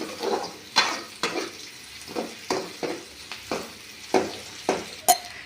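Onions frying in oil in a pan for an egg masala, with a steady faint sizzle under repeated scraping stirs of a spoon against the pan, close and moderate in level.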